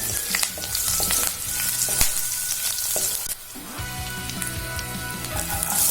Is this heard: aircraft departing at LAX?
no